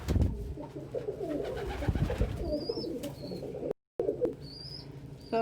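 Pigeons coo in low throaty bursts near the microphone, with sudden wing flaps and brief flutters, followed by a short silent gap and a few faint higher chirps.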